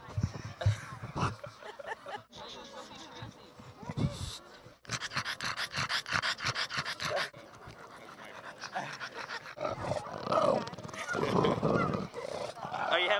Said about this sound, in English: some very talkative dogs